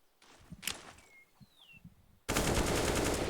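AK rifle fire in the CS:GO video game on the Inferno map during a professional esports match. Quiet footsteps and shuffling lead into a loud, sustained automatic burst that starts abruptly near the end and stays dense and close.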